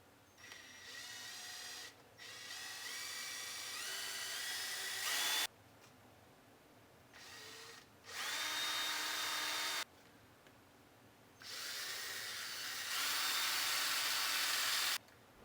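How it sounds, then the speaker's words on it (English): Power drill boring out four rivets holding a Yoshimura badge plate on a DRZ400SM exhaust, in several loud whining bursts with short pauses between them. "I'm going to drill out these 4 rivets that hold the Yoshimura like plate badge on there."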